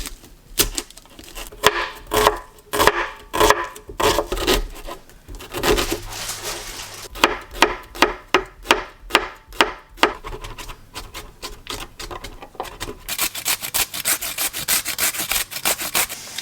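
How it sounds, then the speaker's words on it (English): A knife chops garlic, pumpkin and cucumber on a board in a home kitchen, a run of sharp, rapid taps and rubbing strokes close by, with bursts of quicker cutting toward the end. "So I've just got to chop the garlic, pumpkin, and cucumber."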